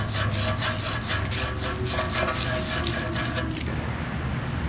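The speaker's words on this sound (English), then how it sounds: "you always have to sand the shaft on the old motor" The shaft of an old HVAC fan motor is sanded by hand in quick, regular rubbing strokes, a steady scratchy rhythm that stops just before the end.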